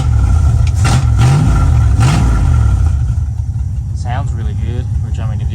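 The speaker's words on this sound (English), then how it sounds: "We'll give her another little blip so you guys can hear it." A 1974 Dodge Challenger V8 with straight pipes and a hole in the exhaust, running loud and close with a deep rumbling idle. The engine rises in two quick blips, then settles back to idle.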